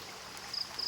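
A strong stream of water near a school rushes in a steady broadband hiss, with faint high chirps above the flow.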